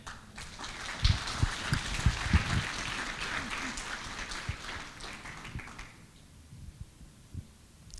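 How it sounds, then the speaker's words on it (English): Audience applause for a speaker at a Ruby programming conference in India, a sustained wash of clapping with sharper claps standing out early, fading toward the end. "let's have a loud round of applause for Smriti"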